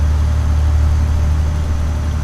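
A truck engine runs steadily at close range, a loud, continuous low rumble with no pauses and no talking.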